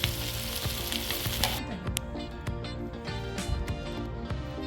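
Stuffed green chillies fry on low gas, turned so both sides cook, giving a continuous close sizzle and crackle with occasional small pops and no speech.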